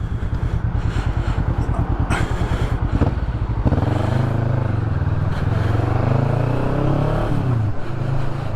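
A Kawasaki Vulcan 650S motorcycle engine while riding: a loud, close, pulsing idle-like beat that builds into a deeper steady drone with rising and falling revs throughout.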